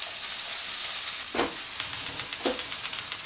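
Sausages sizzling steadily in a frying pan for a full English breakfast, a continuous crackling hiss with two brief louder clatters partway through as they are turned.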